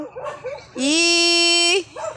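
A dog lets out a single long, high, drawn-out whine lasting about a second, close by, with people chattering softly before and after it.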